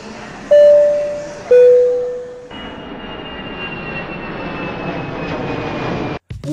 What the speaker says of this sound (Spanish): Vamos, que el avión nos espera.